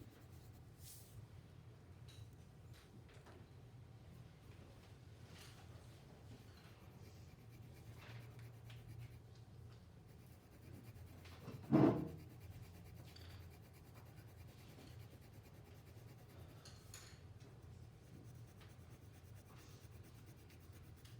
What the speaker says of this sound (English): I'm going to do that by using my pencil in different directions I hadn't before.